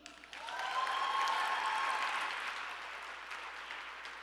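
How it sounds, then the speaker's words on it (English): Audience applause for a panel of fellow literary judges at a fiction awards benefit gala, a sustained wash of clapping that swells quickly, peaks, then slowly thins while continuing. "please don't hesitate to clap for them"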